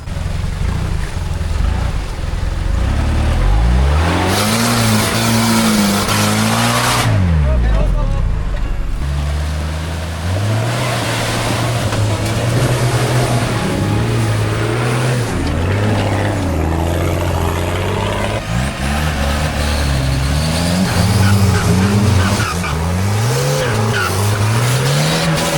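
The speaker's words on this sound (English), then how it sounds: "So 3 anchor cars tied to each other to pull 1 car, and it's still sliding them down the hill." Several off-road vehicles rev and strain in a slick rainforest hill recovery in Borneo, engines loud and close, pitch rising and falling in long surges with tires slipping and sliding, voices briefly audible over the roar.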